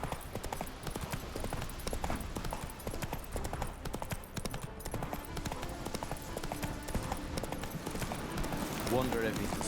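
Roach, the horse in The Witcher 3, runs with quick, rhythmic clip-clopping hooves that stay steady and close throughout, while voices talk over the hoofbeats.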